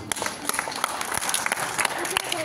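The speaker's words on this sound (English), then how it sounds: "I think they definitely deserve a huge round of applause." Audience applause at a public event, dense clapping with scattered sharper claps and some crowd noise, fairly loud and continuous, with a faint voice mixed in.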